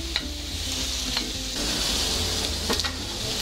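Langoustines and onion sizzle loudly in a pan as they are stirred, a dense, close frying hiss broken by a few sharp scraping clinks of the utensil.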